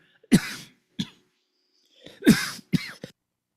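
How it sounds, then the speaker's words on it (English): Several harsh coughs close up, a pair of separate bursts followed by a louder cluster of coughs, with silence in between. "had a cough there"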